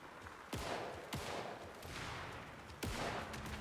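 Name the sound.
gunfire from Agent Casey's gun, video game Alan Wake II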